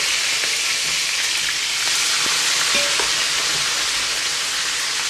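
Pressure-cooked minced meat sizzles steadily in a hot pan with spices, with occasional scrapes and clinks of a spoon stirring it. No talking.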